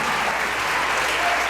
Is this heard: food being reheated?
no